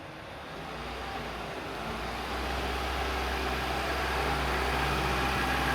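A 1990s Alfa Romeo hot hatch being driven in, its engine a steady low hum that swells gradually louder as it approaches, with no talking.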